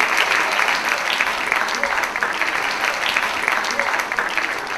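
An audience bursts into sustained applause at a debate event, dense continuous clapping heard close and loud for the whole stretch without letting up.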